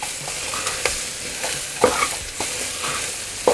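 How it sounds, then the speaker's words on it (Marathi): Spiced rice and vegetables for masale bhat are sautéed in a pan, with a continuous frying sizzle and repeated short scraping stirs of a spoon against the pan, close and without speech. "पुन्हा भाजायचं आपल्याला परतून घ्यायचं छान"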